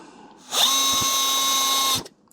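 A power drill drives screws into a wooden frame for a honey extraction setup: one loud, close, steady whirring burst of about a second and a half that starts and stops abruptly, with no talking.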